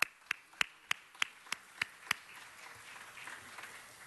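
Sparse applause at a city council meeting: about eight distinct, sharp claps at an even pace, then only faint scattered patters and room noise in a quiet hall.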